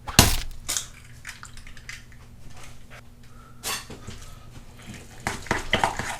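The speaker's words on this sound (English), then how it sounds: "And we'll just stir that together really well" A spoon stirs a raw egg into a sausage and cheese stuffing in a bowl, giving soft, irregular scraping and squishing with a few sharper knocks against the bowl, at close range.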